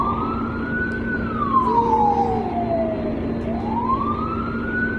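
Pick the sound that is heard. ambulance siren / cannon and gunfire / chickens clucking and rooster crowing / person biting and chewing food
ambulance siren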